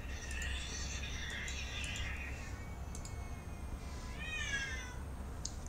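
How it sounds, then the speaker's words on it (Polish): Cats meowing on a video that plays during a livestream: faint, drawn-out meows and wavering calls sound over a low steady background hum, with no clear voices. "Jakieś koty."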